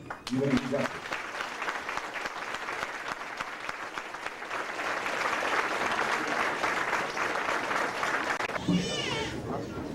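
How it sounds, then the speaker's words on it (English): An audience at a tribute concert dedication bursts into sustained applause after a brief spoken introduction, steady dense clapping that swells slightly and holds before a voice cuts in near the end. "we should signify our pleasure with him by giving him a great hand."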